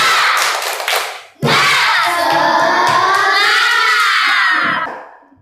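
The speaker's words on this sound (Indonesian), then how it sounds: "Tepuk semangat." Schoolchildren doing a rhythmic spirit clap in class, a brief burst of clapping, then a loud shouted group chant with clapping that fades out.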